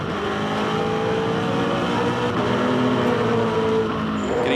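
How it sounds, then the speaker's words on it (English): A V8 Supercar heard from on board at the Ipswich 400 in 2006 keeps up a loud, steady engine roar at high revs with continuous mechanical drone and slight pitch shifts as it races. "On board with Lowndes, let's enjoy the ride"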